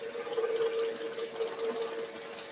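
A scroll saw cuts a thick wooden Christmas tree decoration about 40 mm deep, giving a steady buzzing drone with a slightly wavering texture, close and moderately loud, with no voices.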